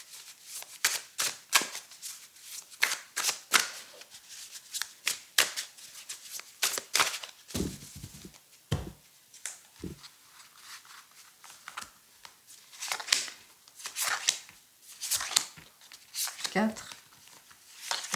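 Tarot cards being shuffled by hand before a five-card draw: a run of quick, crisp riffling clicks and slaps in irregular bursts, fairly close, with a voice heard now and then.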